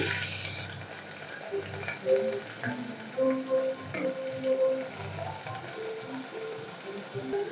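Green chillies and onions sizzle in hot oil in a pan, a dense crackling fry that flares loud at first and settles into steady spattering with a few clinks of stirring.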